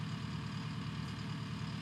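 A skid steer engine runs steadily at high revs with an SS125 drilling attachment fitted, a continuous, loud low rumble with no speech.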